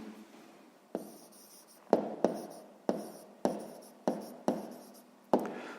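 Pen writing on paper during a sixth-grade maths exercise, eight distinct scratchy strokes tapping at irregular intervals, close and quiet with no talk.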